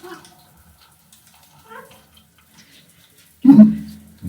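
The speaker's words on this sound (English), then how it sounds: "let's see how this water pressure" A hotel tap is turned on near the end, releasing a sudden steady gush of running water after mostly quiet room sounds.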